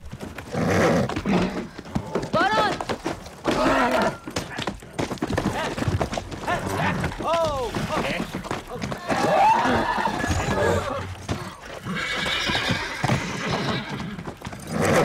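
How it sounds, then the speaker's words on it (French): Two horses fight on screen, with repeated loud whinnies and neighs over thudding hooves and scuffling, intense and close throughout. "l'incroyable séquence où 2 chevaux se battent"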